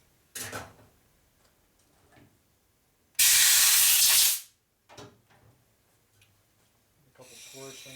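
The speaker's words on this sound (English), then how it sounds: "Go blow it off some brake clean again." Brake cleaner sprayed in a loud, steady hiss for about a second on a 1961 Harley-Davidson Sportster XLCH transmission part, with short mechanical clatters and faint workshop noise around it.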